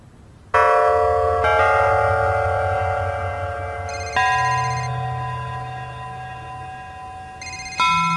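A phone rings repeatedly on an outgoing call, loud electronic tones sounding in long bursts separated by brief breaks, with no speech.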